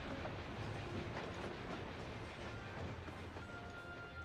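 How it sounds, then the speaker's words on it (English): A passing train in the Final Fantasy XIV video game, with a steady, dense rolling rumble and rail clatter that stays loud and continuous for the whole stretch, with no voices. "That is a cool train."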